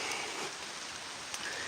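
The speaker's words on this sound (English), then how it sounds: "As this rain, I don't think it's getting worse. I just think it's because we're under the tree. It sounds worse." Steady rain pattering on leaves and the ground while standing under a tree on a walk, a dense close hiss with an occasional heavier drip, and no voices.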